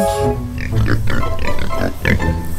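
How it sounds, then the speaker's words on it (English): A pig on a farm grunts and snorts close by in several short, rough bursts. "Hey, look! It's a pig!"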